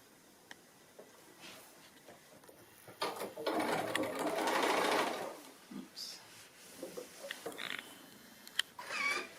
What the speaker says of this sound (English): we're just going to sew that around that curved edge